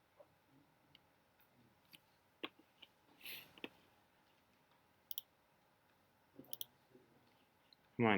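Sparse computer mouse clicks during a game, scattered single and paired taps with longer gaps, fairly quiet and close, ending in a louder burst.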